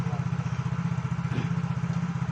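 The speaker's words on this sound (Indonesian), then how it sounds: "Dan untuk kali ini motornya sudah bagus ya, sudah enteng digas, sudah respon." Yamaha motorcycle engine after repair, running close with a steady pulsing throb and a brief rise as the throttle is blipped midway.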